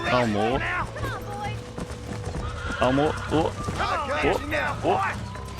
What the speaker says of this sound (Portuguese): Cara, o cavalo não para, velho.